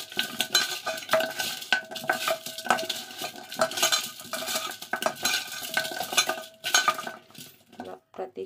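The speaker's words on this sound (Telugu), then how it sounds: "ప్రతి కాలుకి రుద్ది బాగా క్లీన్ చేసుకోవాలండి." Mutton trotters being rubbed with coarse salt and washed in a pot, giving close, busy scraping, clinking and splashing sounds that continue steadily with no talk.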